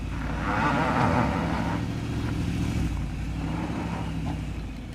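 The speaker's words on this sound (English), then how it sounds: "The Audi A6 drives the last obstacle per simple line because of the front bumper" An Audi A6 allroad wagon crawls over an off-road obstacle on an all-terrain course, its engine giving a steady low rumble with a slight rise in effort partway through.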